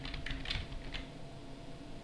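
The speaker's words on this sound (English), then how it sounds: "So if I start typing" Quick bursts of keystrokes on a computer keyboard, a rapid run of clicks in the first second then fading to quieter taps, close and alone without talking.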